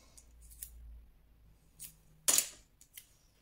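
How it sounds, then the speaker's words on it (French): Scissors cut a small piece of tape in a quiet room, with a few faint snips and rustles followed by one sharp, crisp closing snip. "Vous recoupez un petit morceau de scotch."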